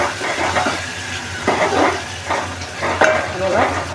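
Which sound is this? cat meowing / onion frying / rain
onion frying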